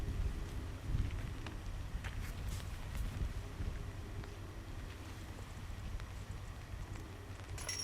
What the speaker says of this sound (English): it's getting pretty breezy out there